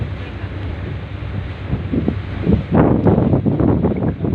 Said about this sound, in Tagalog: Masarap ang hangin.